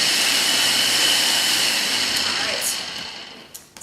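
A Ninja blender whirs steadily at high speed, a loud whining roar that fades slightly and winds down near the end.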